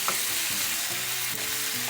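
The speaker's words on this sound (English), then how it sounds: "Now this rice, okay, is frying in cannabis oil, of course." Rice frying in cannabis oil in a pan outdoors, a close, steady sizzle with soft scraping stir sounds every half second or so and no talking.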